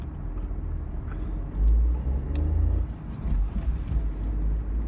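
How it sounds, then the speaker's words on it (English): A bus rumbles past close by on a narrow street, a heavy low engine drone that swells around the midpoint and lingers, with no talking. "there was a bus, an omnibus"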